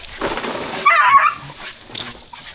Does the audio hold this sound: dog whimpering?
yes